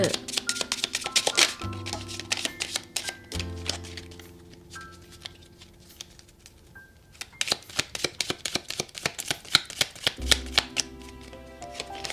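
Tarot cards are shuffled in dense, crisp bursts of riffling and flicking, then slapped down one by one, with a soft piano melody running underneath.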